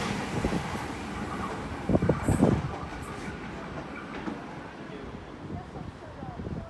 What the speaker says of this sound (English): that train just sped through like a flying bat